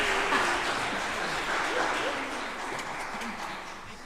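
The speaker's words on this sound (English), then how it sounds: "Give him another round of applause" Applause from a church congregation, a steady wash of clapping that holds across the whole stretch at a fairly even level, with faint voices mixed into the crowd noise.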